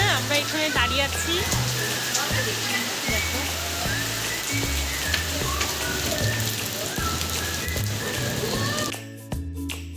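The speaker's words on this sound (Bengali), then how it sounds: "প্রচন্ড বৃষ্টি হচ্ছে" Heavy rain pours down outside a hotel in Shantiniketan. It makes a steady, dense hiss that runs throughout, mixed with music and voices.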